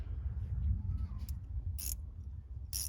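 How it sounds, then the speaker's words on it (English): A 10 mm ratcheting wrench works in the cramped engine bay of a Lexus LS430 during a timing belt check. Low mechanical rumble sits under two short, bright metallic clicking bursts near the end. "So I just got my 10 mil ratcheting wrench"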